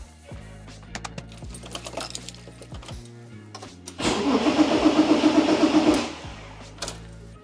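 A Porsche engine cranks when the ignition key is turned. Clicks and relay sounds come first, then the starter grinds rhythmically for about two seconds without the engine catching, and the clicking quiets afterward.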